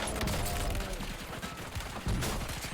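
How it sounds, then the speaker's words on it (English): Enemy gunfire in a Warzone match on Rebirth Island: bursts of rapid automatic shots crackling throughout, with a loud burst near the end and faint chatter mixed in. "He's been shooting at us this whole time."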